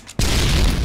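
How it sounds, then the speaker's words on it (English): Grenade blast in the shooter game Pixel Strike 3D: a sudden loud broadband boom after a brief quiet moment, sustained as a dense rumbling roar to the end. "He threw a nade at me?"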